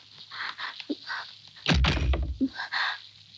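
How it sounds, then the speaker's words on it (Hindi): A door is pushed shut with a solid, heavy thunk that stands out clearly in the middle of a quiet indoor scene, with faint footsteps and light shuffling around it. "आपने दरवाजा क्यों बंद कर दिया?"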